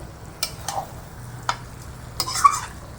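Chicken with spices is stirred in a pan in Bengali style: sharp spatula scrapes and knocks land at irregular intervals over a low, quiet sizzle, close and otherwise calm, with no speech.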